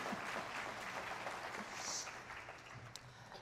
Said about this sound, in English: A round of applause for you both.